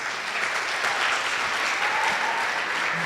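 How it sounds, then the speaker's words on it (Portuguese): Steady applause from a congregation at a church congress fills the space, sustained and even for a few seconds with no voices on top. "Palmas para eles."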